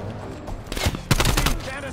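Bursts of gunfire in a Call of Duty Black Ops Cold War campaign mission, a short cluster of sharp cracking shots in the middle over a low rumbling game background.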